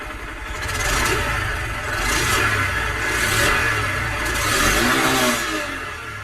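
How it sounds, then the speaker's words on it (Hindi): A 125cc motorcycle engine revs up and down several times, the exhaust rising and falling in steady swells at close range with no talking. "मैं आप लोगों को जो एग्जॉस्ट साउंड है वो मैं आप लोगों को इस बाइक की सुना देता हूँ"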